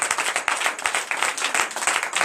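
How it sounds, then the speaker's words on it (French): A church congregation at a night deliverance and prophecy service claps steadily in a fairly regular rhythm, a moderately distant, dense patter of hands with no clear speech over it. "Donnez de vives acclamations à notre Seigneur."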